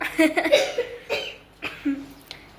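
A few short coughs break up soft talking, close and fairly loud, spaced unevenly through the moment.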